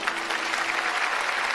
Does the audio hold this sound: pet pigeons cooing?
no